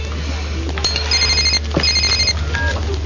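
A telephone rings in a series of bright, trilling electronic bursts, close and clear, over a low steady hum.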